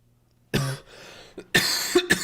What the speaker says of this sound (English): my cough is still here